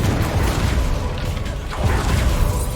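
Spell blasts and explosions from the Hogwarts Legacy video game make a loud, continuous rumble of booms and whooshes throughout, with no talk.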